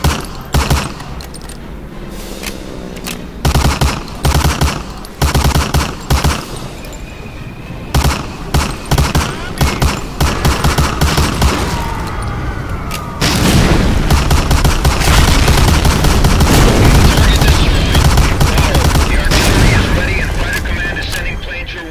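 Thompson submachine gun bursts in Medal of Honor: Allied Assault, loud and close, with short rhythmic volleys giving way to heavy sustained firing and explosions, while a voice talks over the action.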